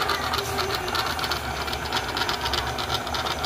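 Portable sewing machine running at a medium speed, giving a fast, even mechanical whirring and rapid stitching chatter, close and steady for the whole stretch with no talking.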